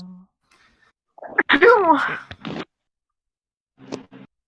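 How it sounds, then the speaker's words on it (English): A small, cute sneeze sounds in a quiet room, a short burst that is followed by a faint murmur of voices. "I was just sneezing. Okay. That was an adorable sneeze."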